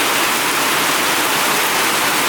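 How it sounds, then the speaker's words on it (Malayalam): Heavy monsoon rain pours down over a flooded yard, a dense, steady roar of falling water that stays loud and unbroken throughout, with no voices. "മഴയുടെ തീവ്രത നമ്മളെ മുറ്റത്ത് നോക്കിയാൽ കാണാൻ പറ്റും, കാരണം മുറ്റം നിറഞ്ഞൊഴുകിയിട്ടുണ്ട്"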